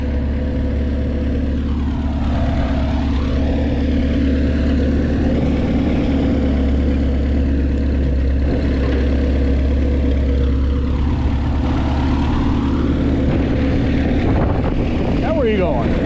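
A tractor engine drones steadily while pulling a plow through a field, with the pitch rising and falling as the load changes and a brief louder burst near the end.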